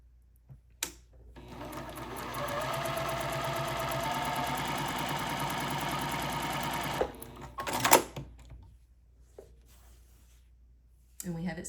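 A sewing machine stitches quilt block pieces for a nine-patch block in one continuous, even run of about six seconds, with some handling clatter afterward.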